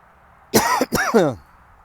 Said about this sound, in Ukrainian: Кашель, елки-палки.